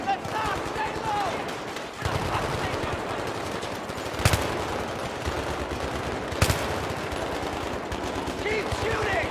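Rapid automatic gunfire in the Battlefield 3 shooter game, sustained machine-gun bursts with two sharp, louder blasts standing out, under shouted voices.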